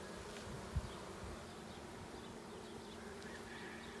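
Honeybees from a week-old package colony buzz faintly and steadily during a hive inspection, a soft continuous hum with one brief knock near the start.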